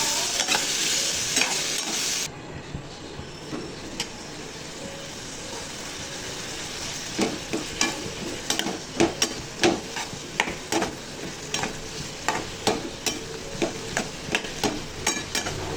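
Onion and tomato sautéing in a kadai for a chutney, a steady frying sizzle with a run of sharp scraping and tapping strokes as a spoon stirs the pan, close and loud.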